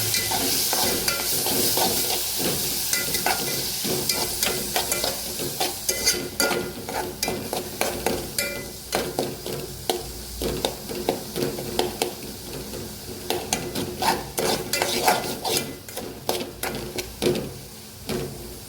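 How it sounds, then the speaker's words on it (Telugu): A spoon stirs tomatoes frying in a pan for a ridge gourd curry, with rhythmic scraping strokes over a constant close sizzle and no talking. "మనం మంచిగా కలుపుకోవాలి"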